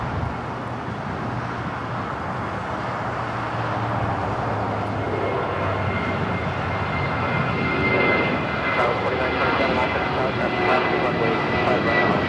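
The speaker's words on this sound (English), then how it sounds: "Little engine start on that Turkish." Turkish Airlines jet at LAX spooling up an engine start, a steady broad roar with rising whine, heard from a distance amid airport ambience and wind.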